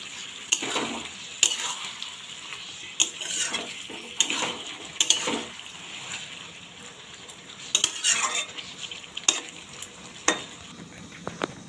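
A spoon stirs and scrapes through chicken sizzling in a pan as tomatoes are added, with intermittent metallic clinks and soft frying hiss between strokes.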